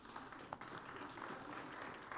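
Audience applause at a forestry project workshop in India, a steady patter of many hands clapping at moderate level with no talking, sustained evenly throughout.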